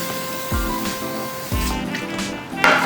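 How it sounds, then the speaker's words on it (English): Cooking spray hisses in a few short bursts close by over chicken being grilled on hot coals, over a steady background hum, with a brief sharper spray near the end. "we're gonna follow by some cooking spray"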